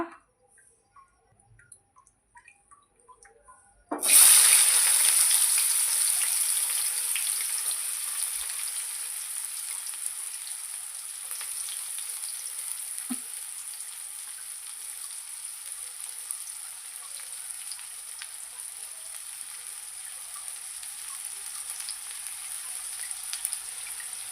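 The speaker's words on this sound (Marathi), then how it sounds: "तर चला मी टाकते आता कांदा" Onion dropped into about two spoons of hot oil bursts into a loud sizzle after a few seconds of quiet, then settles into a steady, slowly easing crackle of frying that carries on alone.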